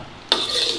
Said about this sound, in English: Give that a stir through